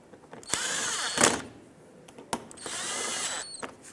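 Power drill driving splash shield fasteners up under the bumper cover of a 2012–2020 Ford Focus, with two sustained close whirring runs, sharp clacks as the bit seats, and short quiet gaps.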